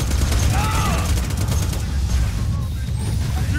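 Bursts of gunfire in the shooter Borderlands 2, a dense, loud volley that thins out toward the end, with a voice talking underneath.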